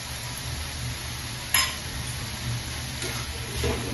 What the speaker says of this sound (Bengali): নেড়ে নেব ভালোভাবে, মিশিয়ে নেব শাকের সাথে।